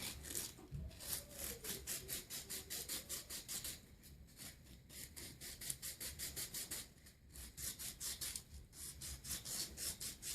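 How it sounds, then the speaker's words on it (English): A double-sided clad quarter coin ring spun flat against sandpaper, giving a steady, close rasping rub that pulses in quick repeated strokes throughout, with no talking. "lay the sandpaper flat on it and then just kind of spin"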